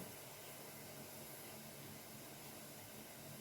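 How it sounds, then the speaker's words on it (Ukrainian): A steady, broad hiss of steam from a kettle on a gas burner runs unbroken at an even level, soft and constant with no voices. "чайник От вже починає парувати"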